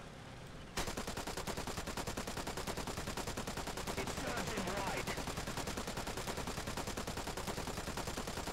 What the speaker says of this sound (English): I do like how the guns are firing out of sync